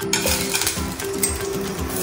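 Onions frying in a pan before eggs go in for breakfast, giving a steady close sizzle with light clinks and stirring scrapes from utensils against the pan, with no talking.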